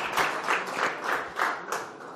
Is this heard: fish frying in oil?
no